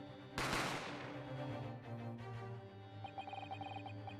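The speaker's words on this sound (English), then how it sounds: "You heard the gunshot, you mean?" A gunshot sound effect from the video game Great Ace Attorney Chronicles: one sharp, loud blast with a decaying tail, played over sustained game music with ringing, bell-like tones coming in near the end.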